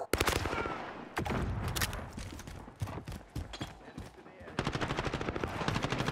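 Rapid automatic gunfire in Call of Duty Modern Warfare multiplayer, loud close bursts broken by short gaps, with a final sustained rattling volley and no voices.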